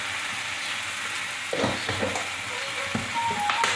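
Gunugu leaves cooking in a pan with salt give a soft, steady sizzle, with a few stirring scrapes and clinks of a utensil partway through.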